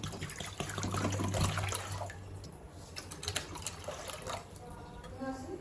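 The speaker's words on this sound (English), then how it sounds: "Add water." Water is poured into a cooking pot while chicken fry is being made, a soft splashing pour over a couple of seconds with faint kitchen clatter and a brief voice nearby.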